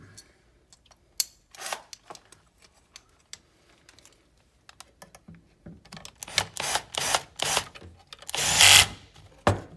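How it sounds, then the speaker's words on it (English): Stainless steel bracket screws are refitted during a diaphragm replacement, giving sparse small clicks and metallic taps early on, then a denser run of louder scraping and tightening clicks near the end, with no talk. "And then put the bracket screws back in."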